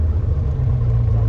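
Chevrolet Corvette C8 with an aftermarket exhaust settling into a deep, steady idle just after startup, a loud low rumble close by throughout the short stretch.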